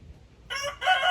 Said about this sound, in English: He's a big rooster.